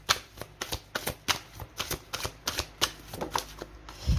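Tarot cards being shuffled and drawn, a run of quick, crisp riffling snaps in a steady irregular rhythm close to the listener, ending with a soft low thump.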